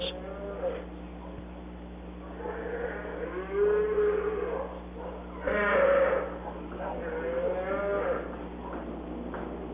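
Dairy cattle mooing on a small Wisconsin family farm, several long drawn-out moos from different animals over a steady low hum, with people talking in the background.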